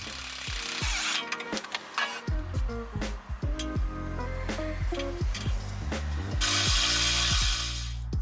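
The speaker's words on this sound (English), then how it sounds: "Remove the 23mm lower ball joint nut." A ratchet wrench loosens the 23mm lower ball joint nut on a Jaguar XJ6, giving rapid, close metallic clicking in repeated bursts and short strokes throughout, with no voices.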